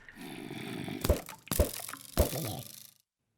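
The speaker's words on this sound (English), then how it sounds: "This one's got like some water sounds." Water trickling and dripping in a dungeon in modded Minecraft, a steady watery burble with three sharper splashy drips, close and moderately loud, no speech.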